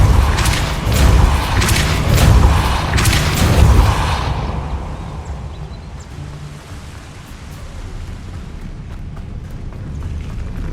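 A Depulso spell cast in Hogwarts Legacy bursts out as a loud, booming whoosh of magical force in the first four seconds, then fades into a low, rumbling ambient tail.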